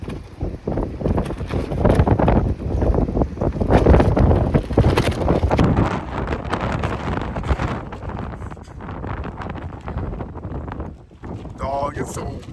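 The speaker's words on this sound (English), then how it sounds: "it's so windy today. It's 22-mile-per-hour winds." Strong wind of about 22 miles per hour gusts and buffets the microphone with a continuous low rumble that swells and eases, while a person talks over it.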